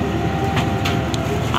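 Inside the KA Banyubiru passenger train, a steady low rumble of the carriage rolling on rails, with faint rhythmic clatter and a few brief higher squeaks over the drone.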